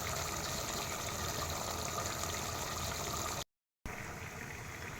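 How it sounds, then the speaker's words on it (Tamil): Water pours and trickles steadily into a cooking pot for a vegetable chickpea biryani made with ordinary rice, a soft continuous flow that briefly cuts out, then resumes more quietly. "இப்போ பிரியாணிக்கு தேவையான தண்ணியை நம்ம இதில் சேர்த்துட்டோம்"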